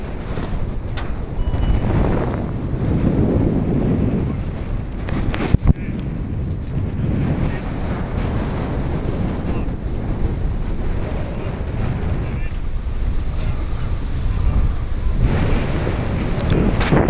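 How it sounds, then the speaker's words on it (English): Strong wind roars steadily across the microphone at an outdoor F5J electric model glider competition in Gubaševo, Croatia, loud broadband gusts rising and falling throughout with a single sharp knock midway. "Wind has picked up considerably, luckily more in the direction of landing."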